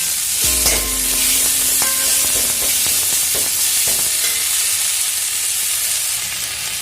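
Mudakathan keerai greens sautéing in a hot pan, a loud continuous sizzle with scraping stirs and clinks of a spoon against the pan throughout.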